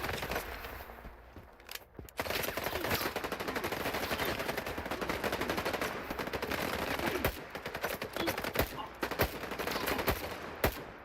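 Dense, sustained gunfire in S.T.A.L.K.E.R. 2 on master difficulty: rapid automatic bursts and overlapping shots crackle nearly nonstop for eleven seconds, with a brief lull near the start and sharp isolated cracks toward the end.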